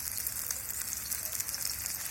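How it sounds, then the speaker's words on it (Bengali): Chopped onion frying in a wok on a stove, a soft, steady sizzle holding at an even low level throughout, with no talk. "পেঁয়াজটা একটু ভাজা ভাজা করে নিলাম"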